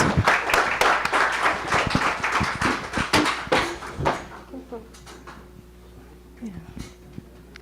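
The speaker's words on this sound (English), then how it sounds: "Please give him a big round of applause." Audience applause at an international media conference inauguration ceremony as a recognition award is presented: dense, fairly loud clapping for about four seconds that breaks off, leaving scattered claps, a low hum and faint voices.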